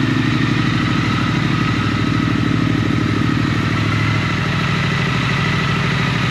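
A Triumph Thruxton RS Finale Edition motorcycle engine runs steadily after starting, a loud, close, continuous rumble with a rapid regular firing pulse and some mechanical clatter throughout.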